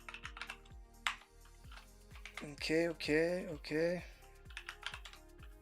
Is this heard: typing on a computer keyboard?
yes